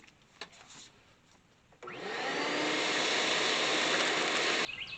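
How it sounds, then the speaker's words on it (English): A vacuum cleaner switches on after a quiet moment and roars loudly and steadily for a few seconds while cleaning the cab floor of a 1980 Dodge D150 regular-cab pickup, then cuts off. "I got the stuff that I guess you could call it a floor out, and I vacuumed it up"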